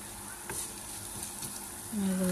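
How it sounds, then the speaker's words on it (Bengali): Yardlong beans, shrimp and potatoes sizzle quietly in a pan of spices, with soft stirring scrapes over a constant low frying hiss, close by and without speech. "এগুলোকে একটু নেড়ে চেড়ে ভেজে দিয়ে দিব বরবটি, চিংড়া, আলু।"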